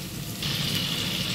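Water poured over kangkong leaves being washed, a steady gushing splash that starts suddenly partway through and continues at moderate loudness, with no talk.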